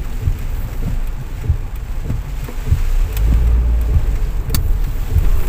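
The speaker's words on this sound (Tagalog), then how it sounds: "Ulan na naman. Nako, lumakas." Heavy rain drums on a car while driving to a supermarket in New Zealand, a loud steady wash with occasional sharp taps and low road rumble underneath, no talk.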